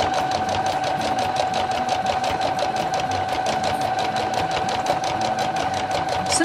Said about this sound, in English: this is top stitching and I've used a contrast thread